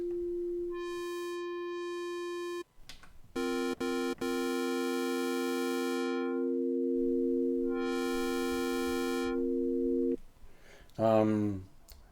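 Waldorf Iridium wavetable synthesizer tones with stacked bright harmonics, sustained notes switching pitch, a sweeping filtered passage, then a short descending chirpy glide at the end.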